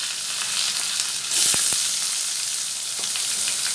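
Onions and curry leaves sautéing in hot oil after mustard seeds, for a buttermilk curry; a steady close sizzle with a louder burst midway, a few sharp crackles and a faint stir, no talk.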